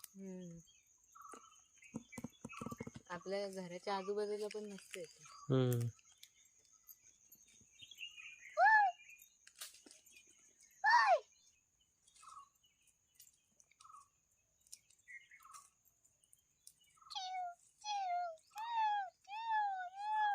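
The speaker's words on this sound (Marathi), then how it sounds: "पक्ष्यांचा आवाज बघ किती छान येतोय" Birds sing around a village house: scattered chirps and short whistled calls, some close and clear, others fainter, with a denser run of repeated calls near the end. A voice speaks at the start.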